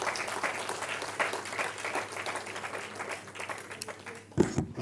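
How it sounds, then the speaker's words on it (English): A lecture audience applauds a professor at an inaugural event, a faint, steady patter of clapping that keeps up evenly before a brief louder burst near the end. "Please give him another round of applause."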